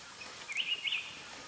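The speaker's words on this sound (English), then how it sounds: "there's that beautiful bird singing," A bird sings two brief, high chirping phrases, fairly faint and a little distant, against a quiet background.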